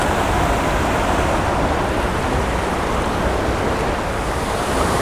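Water pours down a waterfall spillway on an urban creek, giving a steady, dense rushing roar that stays loud and close throughout, with no talk over it.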